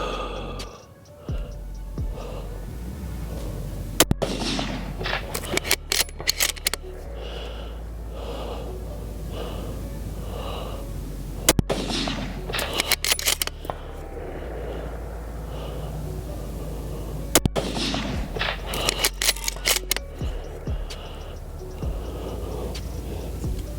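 A 6.5 Creedmoor rifle fitted with the Chad recoil device fires factory Hornady 140-grain ELD Match rounds at a 574-yard target, with three sharp reports several seconds apart over close, heavy breathing.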